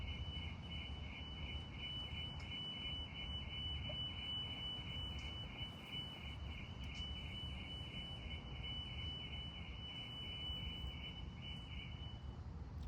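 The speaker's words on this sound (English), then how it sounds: "I think someone's fire alarm is on" A high-pitched alarm beeps in a fast, steady repeating pattern, faint and distant against a quiet room background.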